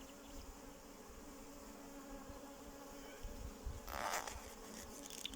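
Honeybees buzz in a steady, faint drone during a beehive inspection, with a brief closer swell of buzzing near the end.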